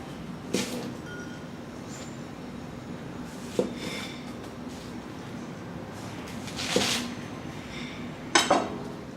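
A Tokageh Santoku Classic Series 7-inch knife cuts through a good-sized onion, a handful of sharp, isolated chops on the board spaced a few seconds apart, with a quiet room between them.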